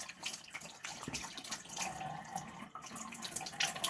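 Running tap water splashing over an 8000-grit sharpening stone as it is washed off, a steady close hiss of water broken by irregular splashes, with no talking.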